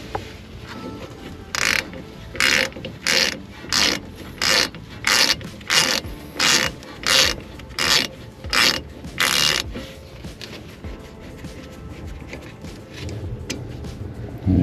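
A half-inch drive ratchet with a 12mm socket loosens brake caliper slide bolts on a 2008 Honda Civic, giving about a dozen evenly spaced loud clicking strokes up close, then quieter handling noise.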